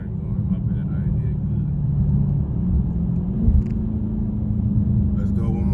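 A Dodge Challenger Scat Pack sits on a steady deep engine rumble, loud and close, that swells briefly midway as it revs. A voice talks over it.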